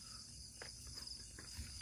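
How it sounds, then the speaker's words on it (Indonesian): Crickets chirp steadily in a high continuous trill beside a river suspension bridge, faint and constant with low background rumble. "Jangkrik."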